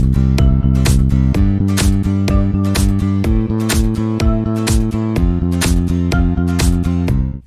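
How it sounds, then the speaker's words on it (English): A MIDI bass line plays alone, loud and steady, with punchy repeated notes in a driving rhythm that shifts pitch every bar or so and stops abruptly at the end. "Have you been writing bass lines that sound like this?"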